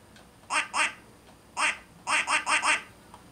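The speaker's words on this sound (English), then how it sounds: "Duck quack horn." Duck quack car horn in Forza Horizon 5, sounding as loud, close nasal quacks: a pair, a single, then a quick run of four, with short pauses between bursts.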